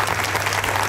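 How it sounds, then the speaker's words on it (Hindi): Loud, dense applause from a crowd at a film campaign launch event, a brief continuous wash of clapping with no clear gaps. "जोरदार तालियां"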